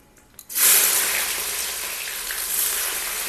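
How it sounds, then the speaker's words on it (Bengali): Onions hit hot oil already spiced with cumin, bay leaf and cardamom, bursting into a loud, sudden sizzle that settles into a steady, hissing fry close up, with no voices. "পেঁয়াজটা একদম লাল করে ভেজে নেব।"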